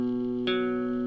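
On electric guitar, the opening two notes of an intro riff are picked one after the other, the first still ringing as the second sounds, close and clean, with no talk.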